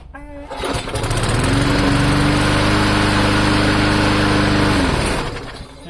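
A lawn mower engine with its throttle bracket bent outward to raise the RPM runs loud and close, holding a steady high-revving drone for several seconds before easing off at the end.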